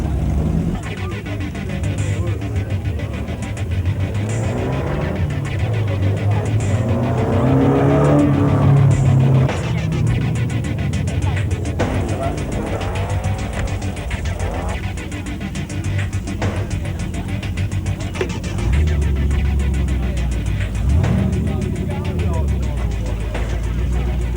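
A Volkswagen 411 Variant with a 1700 engine runs at a Bug Jam VW show, its engine noise a steady rumble under constant nearby talk and crowd sound throughout.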